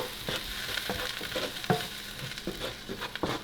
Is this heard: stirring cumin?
yes